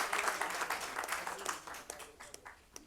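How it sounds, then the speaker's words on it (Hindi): Faint, scattered audience applause for a poet at a Hindi poetry gathering in the Delhi assembly, a thinning patter of claps that fades to a few isolated claps. "मैं चाहता हूं जोरदार तालियां बजाएं"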